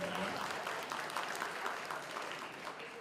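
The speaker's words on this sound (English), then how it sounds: "give yourselves a round of applause, please" Steady crowd applause fills the space at a banking awards ceremony, a dense wash of clapping with some voices mixed in underneath.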